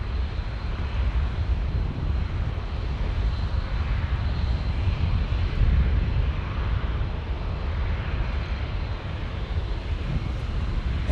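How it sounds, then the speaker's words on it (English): A United Airlines Airbus A321neo passes overhead on approach to San Diego airport, a loud, steady jet roar that fills the whole stretch with broad rumble and wind buffeting, no voices. "an A321neo from United is next over our heads"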